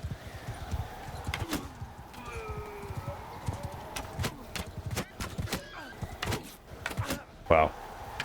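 Horse archers on horseback in the Amir Timur game campaign: clattering hooves, neighing and sharp impact clicks spread through a busy battle, with someone talking over it.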